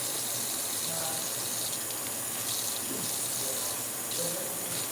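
Kitchen tap water runs steadily as steak mushrooms are rinsed under it, a continuous close splashing rush with slight changes as the stream hits the mushrooms.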